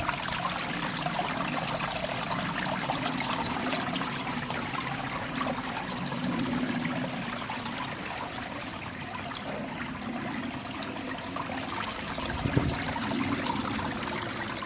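A koi pond waterfall trickles and splashes steadily in a garden, a soft continuous wash of running water at moderate distance with no voices over it.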